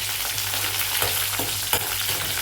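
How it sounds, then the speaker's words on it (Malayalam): Mustard seeds, curry leaves, green chilli and garlic sauté in hot oil for pomegranate pickle, a steady close dense sizzle with a few sharp spatula scrapes and pops, no voices. "കടുക് കറിവേപ്പില പച്ചമുളക് വെളുത്തുള്ളി ഇവ ഒന്ന് എണ്ണയിൽ വഴറ്റി നന്നായി മൂപ്പിച്ചെടുക്കണം"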